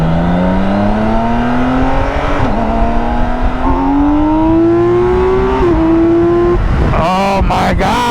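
A BMW K 1600 B six-cylinder motorcycle revs loudly and close, its engine and intake note climbing steadily in pitch, dipping briefly between pulls, then finishing with a few sharp blips of the throttle.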